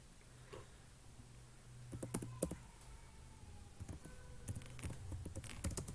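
Soft, quiet typing on a computer keyboard as a prompt is entered into ChatGPT, with irregular clusters of light key clicks that grow busier toward the end, without speech.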